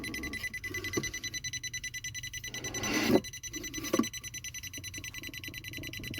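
A Geiger counter radiation detector vibrates in rapid, steady buzzing pulses, chattering against a surface, with a couple of louder rattling bursts in the middle.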